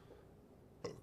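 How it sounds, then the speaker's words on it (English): A single short burp near the end, fairly close and moderately loud, following a quiet stretch of room tone. "It's such a mouthful you burped it out."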